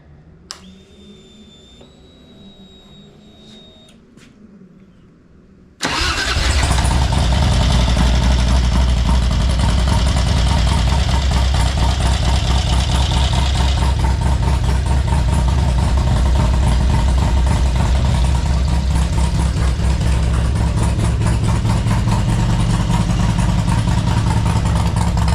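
Close-up, a Harley-Davidson Road King motorcycle engine cranks and roars to life, then settles into a loud, steady idle that carries on without a break.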